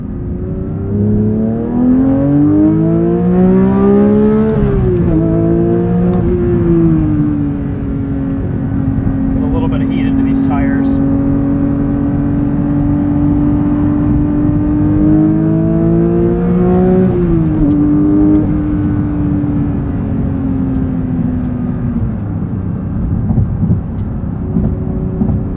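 A 2023 Porsche 911 GT3 with a manual gearbox accelerates hard in sport mode, its flat-six climbing in pitch through the gears with shifts and a sustained loud wail heard from inside the cabin.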